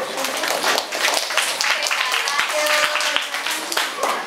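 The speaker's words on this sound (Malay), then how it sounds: "Sila berikan tepukan juga" Classroom students in a Year 5 Malay language lesson clap together in a dense, steady patter that fills the room without a break, with voices mixed in underneath.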